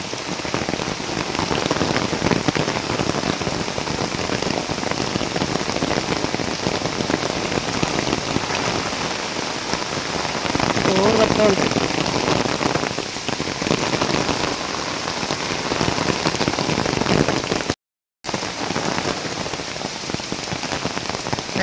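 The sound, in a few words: heavy rain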